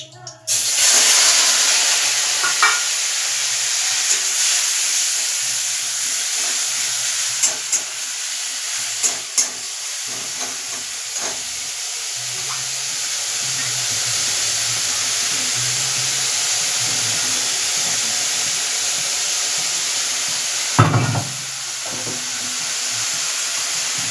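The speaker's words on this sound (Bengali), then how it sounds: "একটু হালকা লাল হয়ে গেলে দিয়ে দেবো পেঁয়াজ বাটা।" Onion paste frying in a pan for chicken rezala, a loud, continuous hiss and sizzle that holds steady throughout, with occasional stirring knocks and a brief louder burst near the end.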